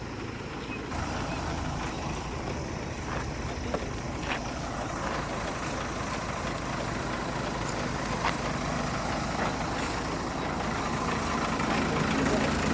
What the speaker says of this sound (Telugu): బస్సు ఇదే బస్సే పోతుండేది అరుణాచలంకి